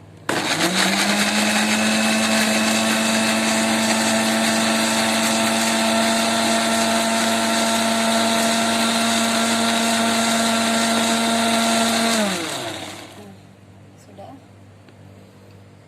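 A kitchen blender grinds chili peppers for spicy noodles, a loud steady whirring drone held for about twelve seconds before winding down and cutting off, leaving quiet.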